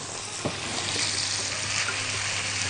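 Carrots and colored peppers sizzle in a pan for a beef tagine with orzo, a steady close frying hiss with a brief stirring clatter near the start and no talk.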